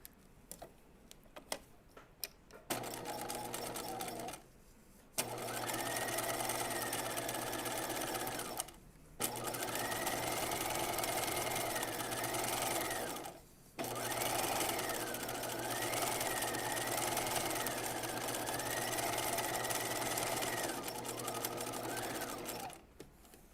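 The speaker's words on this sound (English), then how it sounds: "now we're going to edge stitch an eighth of an inch down each of these long edges" Domestic sewing machine edge stitching long seams on jeans, running in steady whirring bursts separated by brief pauses, near and fairly quiet with faint tonal hum.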